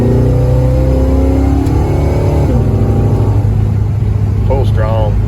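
A Dodge car's engine drones loudly and close by while driving, its pitch dropping as it gears down midway, with the tone rising and shifting again toward the end.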